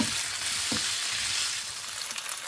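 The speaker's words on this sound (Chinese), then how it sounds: "翻炒均匀" Diced pork with dried chilies stir-fried in a wok for Kung Pao pork, a loud, close sizzle with a couple of scraping stirs.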